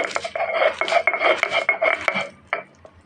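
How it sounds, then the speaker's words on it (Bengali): Chili and garlic being ground on a stone slab (pata) with a grinding stone: close, rhythmic rasping strokes scraping back and forth, with a few sharper knocks and a pause near the end, and no voices. "এখন আমি আগে মরিচ আর রসুন এগুলো বেটে নেব"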